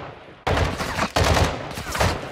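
Bursts of rapid gunfire in Modern Warfare 2 as a player shoots at a lock, three loud, dense volleys with sharp onsets and short gaps between them.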